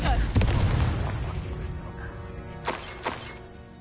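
A fiery Confringo spell blast in the Hogwarts Legacy video game opens with a loud booming burst that rumbles and fades, followed by two sharper smaller cracks near the end.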